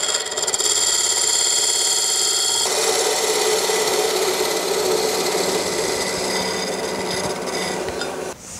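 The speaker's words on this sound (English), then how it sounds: "Now we'll go to our spindle gouge." A spindle gouge cutting wood on a lathe while turning a kitchen canister, giving a loud, steady, close scraping hiss that shifts in tone partway through and trails off at the end, with no speech.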